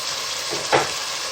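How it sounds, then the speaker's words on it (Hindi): Ground tomato goes into garlic and ginger frying in oil for a fish curry, giving one brief, sharp sizzle burst over a steady close frying hiss. "लहसुन अदरक फ्राई हो गया। अब ये मेरे पास एक बड़ी साइज का टमाटर है, इसको डालते हैं।"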